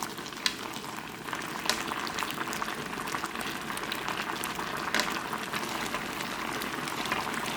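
Braised Korean radish (mujorim) bubbling in its sauce with the lid off: a steady, soft simmer of small pops and crackles, fairly faint and continuous, with no talking.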